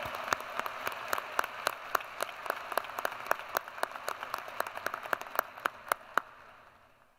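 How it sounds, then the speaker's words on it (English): Applause at a high school graduation ceremony, a crowd's scattered clapping with distinct individual claps standing out over a softer wash, holding steady for several seconds and then fading away, without speech. "Please join me in giving them a warm round of applause"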